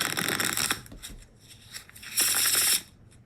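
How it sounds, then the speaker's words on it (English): A rapid, crisp flurry of playing cards being dealt in a computer card game, with brief clicks and a louder riffling burst near the end, faint and alone. "and then deal cards."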